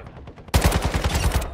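Rapid automatic gunfire in the mobile shooter Call of Duty Warzone Mobile, a loud burst of about a dozen closely spaced shots erupting after faint distant pops and cutting off abruptly.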